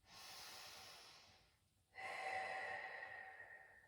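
Slow, deep breathing during a Pilates back-care exercise: one long airy exhale, a brief pause, then a strong drawn breath, close and clear with no talking.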